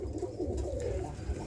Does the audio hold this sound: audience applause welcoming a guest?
no